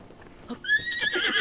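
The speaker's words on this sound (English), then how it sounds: "This looks like a blue horse, actually." A horse in The Legend of Zelda: Breath of the Wild whinnies loudly and close, a shrill rising neigh that trembles and fades, with faint rustling before it.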